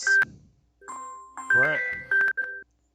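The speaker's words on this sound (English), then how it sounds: "that sounds like an actual phone call." A phone call coming in, heard as a run of bright electronic ringtone beeps and tones in short bursts, mixed with voices in the room.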